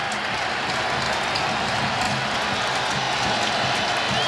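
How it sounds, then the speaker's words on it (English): A large Wisconsin stadium crowd during a college football game against ASU, a steady broadband roar of cheering and clapping that stays loud and constant throughout. "The Wisconsin crowd trying to get their defense into it a little bit right now"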